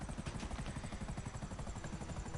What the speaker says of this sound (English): My helicopter's probably going to fail